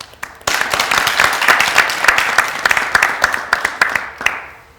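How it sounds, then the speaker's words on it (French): Audience applause for an actress, winner of a best female film performance trophy in Burkina Faso, at a gala evening: a sudden burst of dense clapping from a crowd that holds steady for several seconds, then thins out and fades near the end. "Merci d'applaudir très fort pour Éléonore Cocty."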